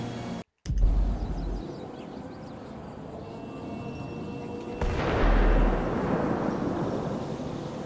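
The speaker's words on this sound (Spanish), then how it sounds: "escuchen el resultado de la explosión" A loud C4 explosion in GTA V bursts out after a brief silence, then a second heavy boom rumbles and rolls on with debris-like roar, game-like and close.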